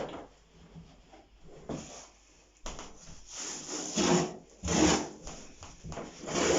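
Old bedroom carpet is sliced up with a blade, giving a series of close rasping, tearing strokes in uneven bursts that grow louder toward the end, with faint room noise between them.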